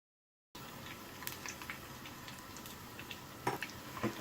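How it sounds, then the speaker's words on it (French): Chicken fritters deep frying in hot oil for Asian sweet-and-sour style fritters, a soft steady sizzle with occasional clinks of utensils, fairly faint and close, no talk. "Je vais faire frire une première fois"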